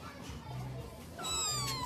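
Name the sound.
cat meowing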